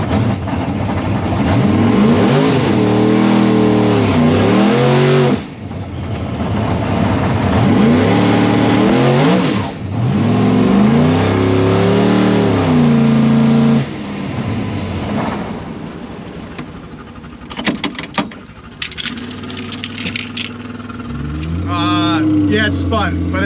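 Drag race car on slicks at PDRA Super Street testing doing a rough burnout, engine roaring loud and sustained in repeated revving bursts, then easing off with quieter mechanical noise before revving again near the end.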